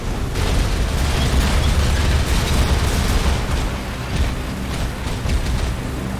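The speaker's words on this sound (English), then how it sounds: "you can keep a near constant stream of bullets going." Continuous full-auto weapon fire from a mech in the Armored Core 6 video game, a dense unbroken stream of loud, rumbling shots and bursts with no pauses, no voices.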